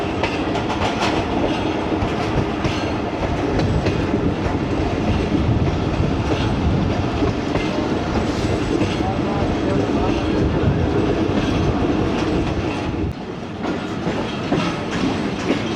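The Fareed Express runs through countryside on its way to Kasur Junction, with loud continuous rumble and rhythmic clickety-clack of the wheels on the rails, close and steady throughout.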